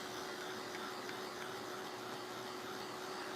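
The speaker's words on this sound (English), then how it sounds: "I try to use a quieter dryer so you guys don't have to listen to a big noise" A quiet hair dryer runs steadily on glued pea pod crafts, a constant airy whir with a faint steady hum, unbroken and alone throughout.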